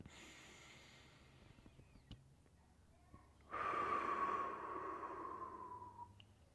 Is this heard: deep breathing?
yes